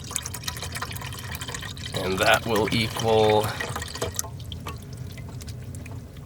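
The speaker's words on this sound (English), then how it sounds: "So I'll add this, and I'll add 1 cup of water." Water is poured into a pot of broth for mushroom soup in a winter truck camp, a short gurgling, rising fill sound heard up close while someone talks.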